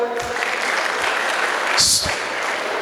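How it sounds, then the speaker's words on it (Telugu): An audience claps together at a family achievers reunion training event, a dense, steady patter of applause sustained throughout, with a voice heard briefly at the start. "వీళ్ళకి చప్పట్లు కొట్టండి ఒకసారి."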